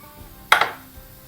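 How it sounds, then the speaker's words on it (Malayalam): A pot set down on a gas stove with a quick clank, followed by the short rush of the burner catching; a single sharp burst in an otherwise quiet kitchen. "ഞാൻ ഒരു പാത്രം അടുത്ത് വെച്ച് ഗ്യാസ് കത്തിക്കാം."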